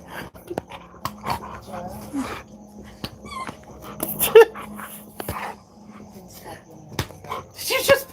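Duchess the dog whimpers, yips and growls in short bursts while playing, with panting between, close up, as someone talks to her in between.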